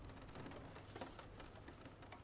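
Rain falls steadily in a soft, even patter of drops on a surface, faint and continuous with scattered louder droplets, no voices present.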